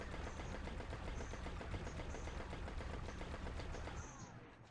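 The SUROS Regime exotic auto rifle in the game Destiny fires in one long, continuous automatic burst that cuts off near the end.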